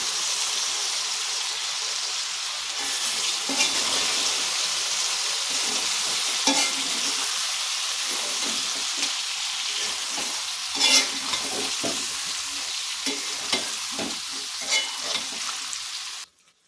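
Jaggery being stirred into sweet jujube (kul) pickle cooking in a pan, a steady bubbling sizzle with scraping stirs and occasional sharper spatters, close and moderately loud, ending abruptly.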